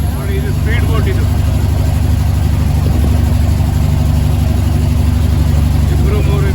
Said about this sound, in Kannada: ನೋಡಿ ಇದು ಸ್ಪೀಡ್ ಬೋಟ್ ಇದು.